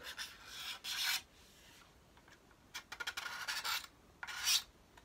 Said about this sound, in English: sanding, scrape that all back